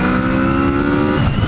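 A Kawasaki Z650 motorcycle engine with its air box intake, a loud, close, steady growling roar at constant revs for a brief moment.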